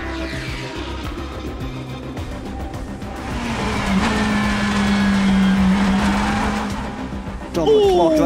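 A Lamborghini race car on a qualifying lap at the Spa 6 Hours endurance race, its engine a loud sustained roar that swells and then drops, with a commentator talking over it.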